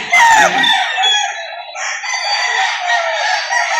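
A rooster crows loudly and close by, overlapping other crowing and clucking chickens, each call a long, strained, wavering cry.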